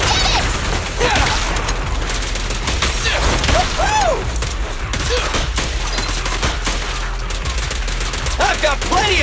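Rapid bursts of gunfire and impacts crackle through a busy action fight in the video game Zenless Zone Zero, with dense layered shots and effects continuing throughout, mixed with occasional character voices.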